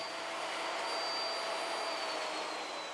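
A router cuts a mortise in wood on a joinery jig, giving a continuous high-pitched motor whine that stays steady and fairly loud from start to finish, with a faint shift in pitch and no voices.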